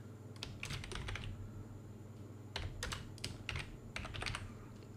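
Short bursts of fast typing on a computer keyboard while entering an email address during a WordPress setup, clicks arriving in quick clusters separated by brief pauses, close and fairly quiet over faint room hum.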